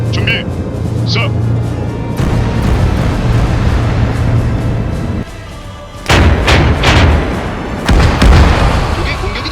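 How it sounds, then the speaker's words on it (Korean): Enemy artillery shelling in a wartime invasion of South Korea, with loud booming blasts and gunfire-like bursts throughout, heaviest near the end, while voices speak over the bombardment. "적의 포격이다."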